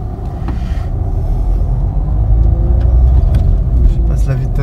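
During a driving lesson, a car moves off and drives on, its low engine rumble and road noise building steadily while someone speaks French over it.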